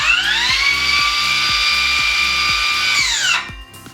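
A battery-powered circular saw spins up with a rising whine and then runs at a steady high pitch for about three seconds. It then winds down abruptly as the blade brake engages, close and loud with no talk.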